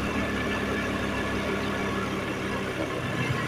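A Honda Aviator scooter engine runs steadily close by at raised revs, a constant mid-pitched motor hum with no other voices or sounds.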